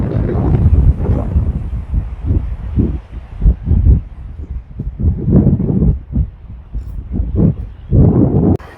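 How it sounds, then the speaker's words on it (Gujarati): Cool wind at the seashore in Porbandar buffets the microphone in uneven gusts, producing loud low rumbling bursts that rise and fall irregularly, with no speech over it. "ઠંડો ઠંડો પવન આવે છે"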